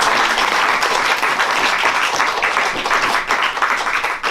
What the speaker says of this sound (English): Clap louder for them